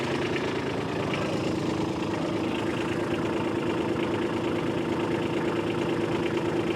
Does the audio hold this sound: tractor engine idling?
yes